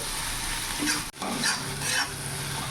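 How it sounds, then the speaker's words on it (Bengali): Spiced masala paste frying and being stirred in a pan over a low gas flame for an egg and pointed gourd curry, a steady close sizzle with scraping stir strokes and a brief gap near the middle. "সিম আঁচ করে মশলাটা আমি ভালো করে কষিয়ে নেব"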